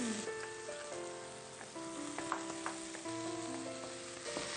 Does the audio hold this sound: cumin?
yes